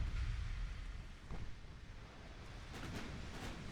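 A warship's secondary guns fire in Ultimate Admiral Dreadnoughts, the cruiser Regensburg among them. Deep, distant booms roll into a low rumble and then a softer, sustained murmur of battle.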